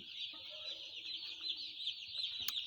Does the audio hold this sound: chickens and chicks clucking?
yes